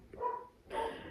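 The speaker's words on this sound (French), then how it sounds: "il y a mes chiens qui font wow" Household dogs give a couple of muffled barks or yips in the background, two short bursts a fraction of a second apart, faint and indoors with no talking.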